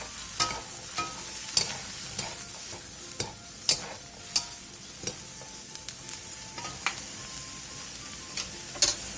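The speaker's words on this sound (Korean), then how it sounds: "그 다음 느타리 버섯을 넣고 버섯의 숨이 반 정도 죽을 때까지 볶아주세요" Oyster mushrooms stir-fried in a pan over high heat, a steady sizzle broken by sharp scraping clicks of a spatula at irregular intervals, close and fairly loud, with no voices.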